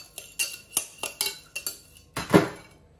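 A utensil mixes a Camargue rice salad with tuna in a bowl, making a series of about eight sharp clinks and scrapes against the dish, closely spaced and close-up, followed by one louder scrape.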